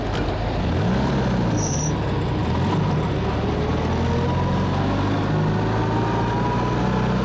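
A vehicle jolts along a very rough road, with a continuous loud rumble of engine and tyres and rattling over the uneven surface, steady and close throughout with no talk.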